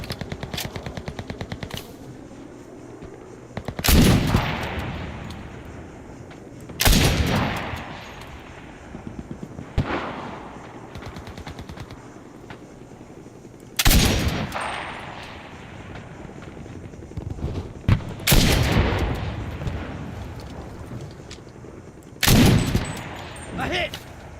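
Video game gunfire in loud separate bursts, a handful of sharp volleys spaced several seconds apart, each decaying into quieter stretches with faint crackling between them.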